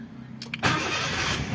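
A Honda Jazz RS with a jammed ignition key cylinder cranks briefly, then the engine catches and settles into a steady, close idle.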